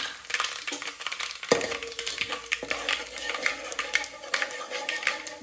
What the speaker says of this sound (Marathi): तर आपल्याला जिरे टाकायचे इथे जिरे टाकले मी